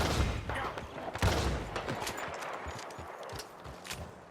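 Rapid gunshots fired at rabbits in Red Dead Redemption 2, a quick cluster of sharp cracks up front followed by scattered fainter pops and light hoof-like thuds in an outdoor setting.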